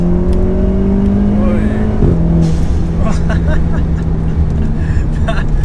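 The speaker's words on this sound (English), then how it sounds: "That dump valve's hilarious." A race-chipped, tuned 360bhp VW Golf R with an aftermarket dump valve in place of the stock diverter valve drones nearby. A sharp thump is followed by fluttering, hissy blow-off bursts as the engine comes off boost, with voices in the background.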